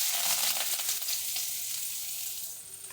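Onion, green chili and curry leaves frying in hot oil for a Kerala-style cabbage stir-fry, a steady close hiss and crackle that eases slightly toward the end, with no voices.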